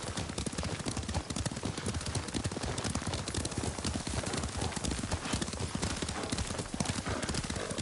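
A horse galloping in the samurai video game Ghost of Tsushima, rapid, dense hoof clip-clops pounding continuously and loudly, with faint snorts mixed in and no talk.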